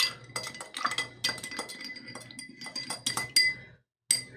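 A spoon stirs a milky blue-gin and champagne cocktail in a glass, giving a run of bright, close clinks and taps against the glass for about four seconds before a short pause and one last clink.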